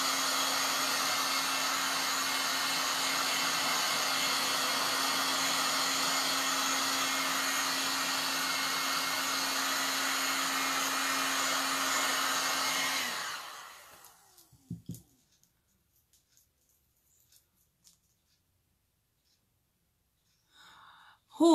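Hair dryer drying decoupage paint on an Easter-themed decorative plaque, blowing as a steady loud whir for about thirteen seconds before switching off, followed by faint handling noises and near silence.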